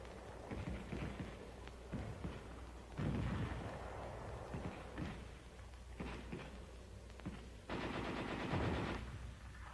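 Heavy machine guns firing in an attack, rapid bursts and sustained rattling volleys in rhythmic stretches, loud and close, broken by short pauses between bursts.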